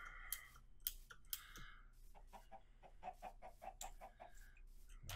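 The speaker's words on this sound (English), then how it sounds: "A lot of chickens on the plains." Chickens in the video game Minecraft clucking out on the plains, several short clucks and clicks scattered across the moment, fairly faint and close, with no speech.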